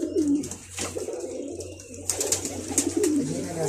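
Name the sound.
pigeon cooing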